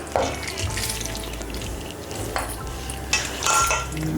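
Washed raw chicken tipped into a dry pan on a lit stove, with clinking of a metal pan and utensil over a steady low frying hiss, several sharper knocks and scrapes near the start and end.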